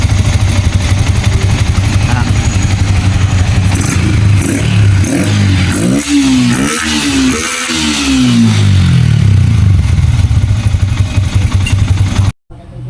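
A Sniper 150 motorcycle engine with a freshly cleaned throttle body idles loudly, then revs in a few rising throttle blips before settling back to a steady idle, with no talking over it.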